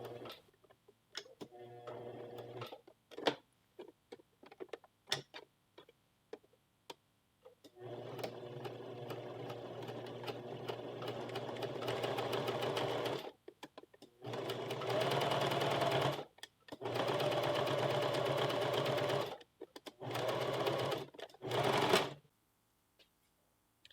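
A sewing machine stitches a shirt collar for a western blouse in bursts of rapid, even whirring, with short pauses, separate clicks and handling noises between runs, close and steady, with no talking.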